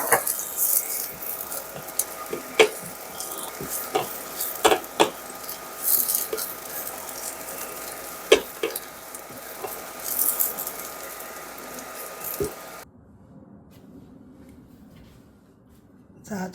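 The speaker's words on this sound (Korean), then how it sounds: "자, 표고 볶아줍니다." Sliced shiitake mushrooms stir-frying in a pan for rolled wheat crepes, with soft sizzling and intermittent sharp clinks and scrapes of a utensil against the pan, close and moderately quiet, ending in near silence.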